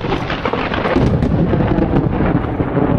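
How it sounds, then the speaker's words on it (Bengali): Thunder from storm clouds gathering in the eastern sky over a river-island char village rolls as one loud, deep, sustained rumble that fills the whole moment, close and heavy. "আকাশে কিন্তু বজ্রপাত শুনছেন আপনারা"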